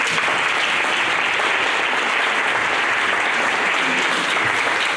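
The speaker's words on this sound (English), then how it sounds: "please give them a round of applause" An audience at a stroke-awareness coffee talk applauds steadily, producing a dense, even wash of clapping that holds at a constant level for the whole stretch, with no voices over it.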